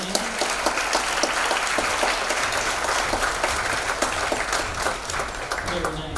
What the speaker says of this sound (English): You can clap for them again because they're amazing.